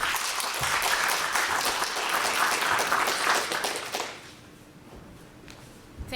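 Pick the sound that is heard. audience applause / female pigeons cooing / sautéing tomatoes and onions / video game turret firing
audience applause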